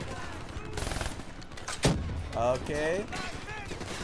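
Gunfire in the video game Call of Duty Black Ops 3, with a few sharp shots and bursts amid game sounds and a player talking over it.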